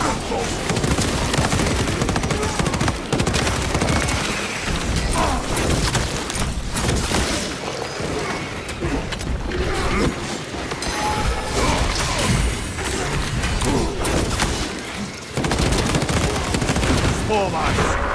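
Battle in Warhammer 40,000: Space Marine 2, with nonstop rapid gunfire volleys and heavy crashing impacts running loud and dense throughout. Voices call out now and then beneath the shooting.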